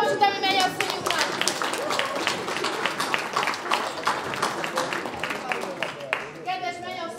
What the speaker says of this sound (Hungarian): Egy nagy tapsot, ami megy a szívünkben.